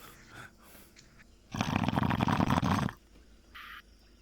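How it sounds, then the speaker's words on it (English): Loud snoring from a person lying on his back in VRChat, one long rasping breath that rises abruptly and cuts off, with quieter murmurs around it. "I can't believe that it's so loud and snoring."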